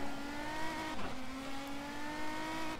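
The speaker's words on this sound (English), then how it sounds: "They've done a really good job with the tone of the engine in this mod." Renault Megane Trophy race car engine in the rFactor 2 sim, a steady, rounded drone holding a near-constant pitch with a slight dip midway, continuous and fairly quiet, with no talk.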